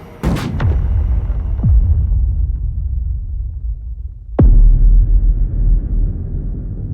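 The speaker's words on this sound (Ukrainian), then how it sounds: "Вибух." A 400 g TNT charge goes off under a rubber wheel in a demining test on a farm field. One sharp, heavy blast is followed by a rumbling echo, and a second loud boom comes a few seconds later.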